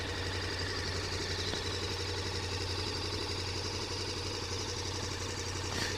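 A KTM Super Duke 1290 motorcycle engine idles close by, a steady, rapid mechanical throb with a constant low rumble, running without a break and with no talk over it.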